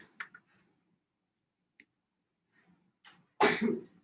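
A single loud sneeze bursts out near the end after a few soft breaths and small sounds in an otherwise quiet classroom.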